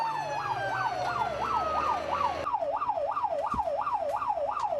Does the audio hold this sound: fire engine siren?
yes